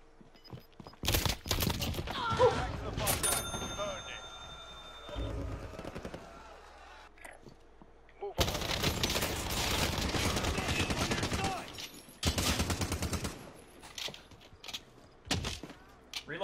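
Gunfire in the video game Call of Duty: Warzone: loud, rapid bursts of automatic shots in long volleys separated by brief pauses, with voices speaking in between.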